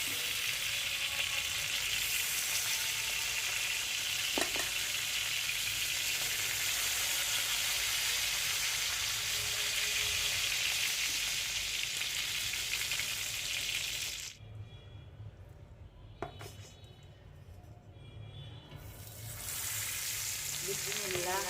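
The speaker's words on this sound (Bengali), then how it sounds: "রোস্টের জন্য আমার মাংস ভাজা হয়ে গেল, মুরগির মাংস।" Chicken meat fries in a pan for a roast with a loud, continuous close sizzle for most of the time, dropping briefly to a quieter crackle before the frying swells again.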